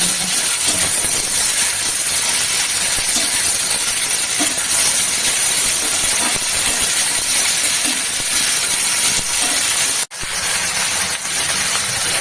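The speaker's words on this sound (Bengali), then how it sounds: "এবারে লবণ হলুদ দিয়ে ভেজে নিয়ে গ্যাসটা কমাবো।" Tengra fish sizzling in a pan with salt and turmeric, a steady loud frying hiss running throughout, briefly cut off near the end.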